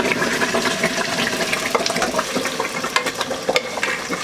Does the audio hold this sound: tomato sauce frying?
yes